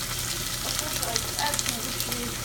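Onions fry in hot oil for Somali rice, a dense steady sizzle with light crackles throughout, close and continuous.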